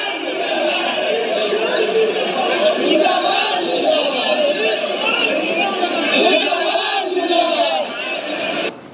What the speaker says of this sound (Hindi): मुर्दाबाद के नारे लग रहे हैं।